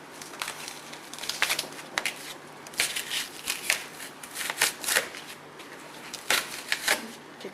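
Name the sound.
pulling fiberglass fender part off wax paper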